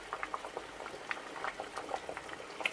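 Hemp seeds simmering in a pot of water as carp bait, a soft close bubbling with irregular little pops and plops throughout, fairly quiet and without talk.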